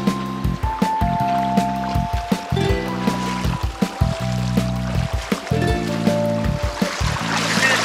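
A strong river current in Crete rushes around wading legs, with close sloshing, splashing pulses and gurgling water throughout and no clear talk.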